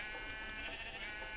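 A sheep bleats in a video game, a single quiet, sustained bleat over a steady background with no talking.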